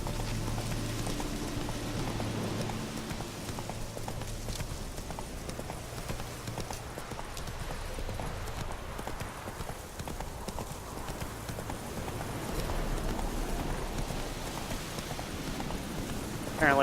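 Geralt's horse Roach gallops in the video game Witcher 3, a continuous rapid clip-clop of hooves carrying through the whole stretch at moderate level, with game music or ambience faintly underneath.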